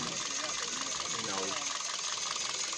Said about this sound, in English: Coil 3, the engine is shaking.